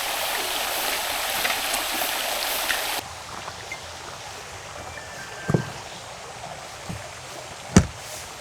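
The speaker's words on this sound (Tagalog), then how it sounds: "Lakas ng tubig nila dito." Strong flowing water at a mountain spring pool on Mt. Arayat, a loud rushing wash that drops to a quieter steady flow partway through, with a couple of brief knocks and splashes nearby.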